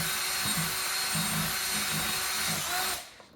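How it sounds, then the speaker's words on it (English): A power drill whirs steadily while stirring natural peanut butter in a jar, angled and swirled around the edges, with rhythmic scraping pulses before the motor stops abruptly near the end. "as I'm doing it, I'm not just holding the drill straight, I'm actually spinning it around, sort of angling it"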